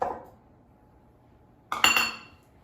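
Metal and glass clinks as Bisquick mix, shredded cheddar cheese and milk go into a mixing bowl for cheddar biscuits: a soft knock at the start, then a bright cluster of clattering clinks after a quiet pause.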